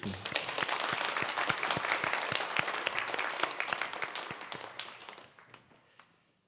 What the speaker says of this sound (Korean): 우리 어버이께 또 우리 감사로 박수로 또 하겠습니다